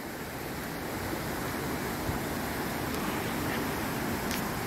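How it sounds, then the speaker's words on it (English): A river flows through jungle near the Iguazu waterfalls, giving a steady, unbroken broadband rush of water that stays even in loudness from start to finish, with no voices over it. "There's a river here. River in the jungle."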